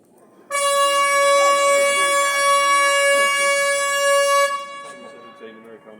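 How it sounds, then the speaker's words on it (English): A loud, steady yacht club horn blast with strong harmonic tones sounds for about four seconds at Burnham-on-Crouch, then cuts off, leaving faint background noise and distant voices. "a siren, a horn,"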